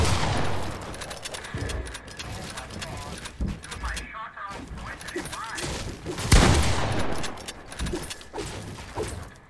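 Rapid gunfire in a shooting video game, bursts of crackling shots and booms stacked over busy game noise at close range, with voices talking over it.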